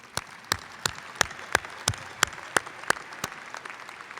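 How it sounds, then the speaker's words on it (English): An NJIT commencement audience gives sparse, rhythmic applause, with roughly a dozen distinct claps falling about every third of a second over a faint background of scattered clapping in a large hall. "Your applause, please."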